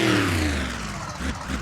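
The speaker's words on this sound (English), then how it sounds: "Revving it up for you." A racing vehicle's engine, Bad Company celebrating on the center jump at a Custom Chaos event in Honolulu, revs loudly and sweeps downward, a harsh roar that dips and then surges briefly again.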